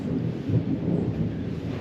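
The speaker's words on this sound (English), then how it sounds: "I guess we're having a nasty storm out there" A nasty thunderstorm outside, heard as a steady low rumble of thunder with rain noise behind it, muffled and continuous with no voices.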